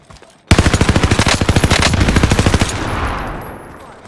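Rapid automatic gunfire from a gun in a first-person shooter video game, a loud close burst of evenly spaced shots lasting about two seconds, then a fading echo tail.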